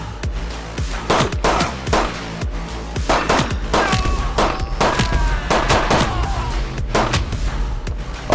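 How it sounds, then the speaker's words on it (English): Gunfire in the twin-stick shooter Midnight Fight Express on PS5, with dense loud bursts of rapid shots and bangs running throughout. "the guns feel and shoot great"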